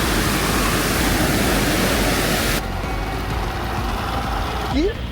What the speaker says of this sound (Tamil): குரங்கணி ஃபால்ஸ் தான் செமையான ஃபால்ஸ் இருக்கு.